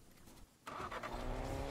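A car engine in a video game rises suddenly after a quiet moment, a steady rumble building as the vehicle pulls away, fairly faint and with no talking.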